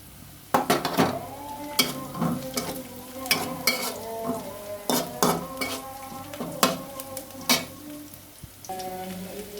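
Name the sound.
cooking gourd with shing and taki fish in pan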